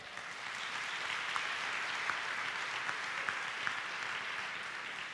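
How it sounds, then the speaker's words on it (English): A church audience gives a big round of clapping as a man walks up, steady mid-level applause with a few sharper individual claps standing out, swelling in and easing slightly toward the end. "Give him a big hand clap."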